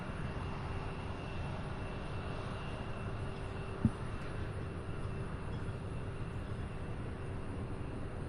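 An American Airlines Embraer E175 regional jet departing at an airport, a steady distant engine roar holding evenly throughout, with one sharp brief click partway through.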